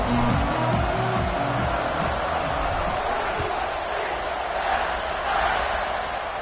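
Stadium crowd noise in an American football video game at kickoff, a broad roar swelling and fading under play-by-play commentary.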